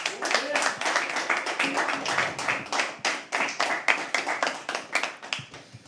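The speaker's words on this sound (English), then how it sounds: "Can we please have a round of applause for him?" A small audience at a poetry open mic at The Habitat claps for a performer, distinct individual claps in a quick irregular patter, close and fairly loud, with some voices mixed in.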